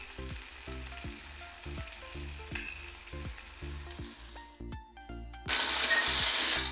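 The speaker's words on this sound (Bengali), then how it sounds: "আলুটা ভাজা ভাজা হয়ে গেছে" Potatoes fry in a pan for fish head curry, a steady close sizzle with periodic stirring scrapes and clinks, then a louder burst of hiss near the end.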